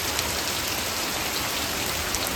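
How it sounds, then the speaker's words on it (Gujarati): Heavy rain pours down steadily in a Gujarat village around Botad, a dense unbroken hiss of drops on surfaces, loud and close, with no voices. "કેવો મસ્ત મજાનો વરસાદ પડે જોરદાર"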